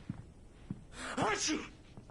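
A sneeze in the video game Alan Wake Remastered comes as a short, sharp burst of breathy noise in the middle, with quiet speech before and after it.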